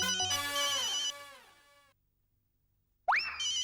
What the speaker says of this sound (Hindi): अंजलि का ही फोन है।